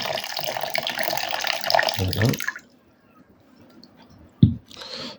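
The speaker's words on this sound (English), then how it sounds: "what I'm gonna do is add a little bit more water to the mix" Water poured from a tap into a recycled paper pulp mix, a steady gushing splash for about two seconds that cuts off, followed by quiet with a brief wet slap and a short trickle near the end.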